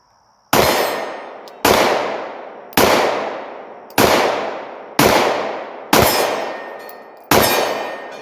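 Glock 17 pistol fired one-handed, seven sharp loud gunshots at a steady pace, each with a ringing decay before the next.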